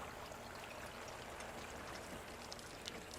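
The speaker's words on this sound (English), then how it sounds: "I see water coming out of the gutter." Rainwater trickles and splashes out of a house roof gutter outdoors after rain, a soft, steady, faint stream with small irregular drips, and no talking.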